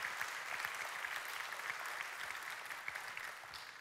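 Sustained applause from a church congregation fills the room, a dense, even roar of many hands clapping that holds steady and fades slightly toward the end, with no voices on top.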